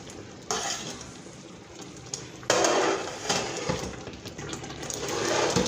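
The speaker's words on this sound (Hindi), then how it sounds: "तो इसमें हम नॉन स्टॉप इसको चलाते रहेंगे चम्मच को" A spoon stirs thickening khoya non-stop in a pan, making steady scraping and clinking against the metal that grows louder partway through, with no voices.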